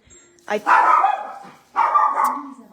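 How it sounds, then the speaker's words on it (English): A pet dog barks excitedly at someone at the door during a live painting session, giving two bursts of loud, close barking separated by a short pause. "Somebody's at the door, and my dog Tibby, as you can hear, I'm sure, is going a little crazy."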